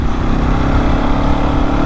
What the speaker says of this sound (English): actually the sound of this bike is absolutely fine, to be honest